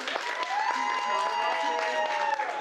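Wedding guests applaud at a reception during the speeches, a steady dense patter of clapping with cheering voices and talk mixed over it throughout.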